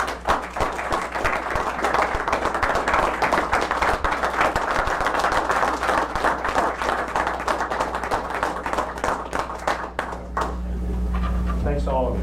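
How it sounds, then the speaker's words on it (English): Applause for Officer Patrick at a borough council meeting, steady clapping from a modest room crowd that stops near the end, leaving a low hum and a voice. "Another round of applause for Officer Patrick"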